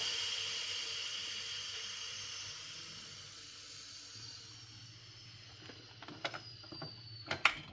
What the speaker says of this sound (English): now you need to release any remaining pressure